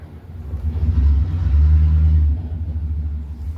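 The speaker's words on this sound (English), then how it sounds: "now that's a pickup truck" A pickup truck drives past on a street in High River, its engine rumbling low and loud as it nears, swelling to a steady drone in the middle before fading away.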